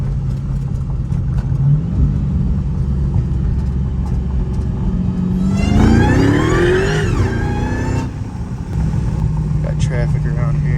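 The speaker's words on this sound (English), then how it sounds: "You guys gotta hear that supercharger." A supercharged Dodge Hellcat-engined Chrysler 300 making about 850 wheel horsepower revs up from a steady idle, its rising supercharger whine sweeping upward over a deep engine rumble, heard up close from inside the car.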